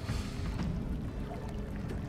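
Water rustling and splashing in the survival game Sons of the Forest, a steady low churning wash that holds at an even level for the whole stretch with no voices over it.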